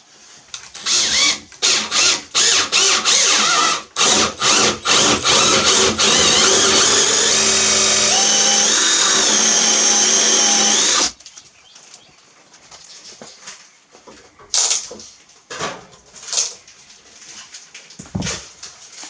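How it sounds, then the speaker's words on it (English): A wood drill with a hole saw bores through a wooden door in a sustained, loud grinding whir broken by short bursts, then stops, leaving quieter handling clatter and bumps. "Now this is a wood drill bit."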